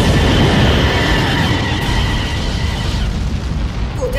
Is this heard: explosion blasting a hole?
yes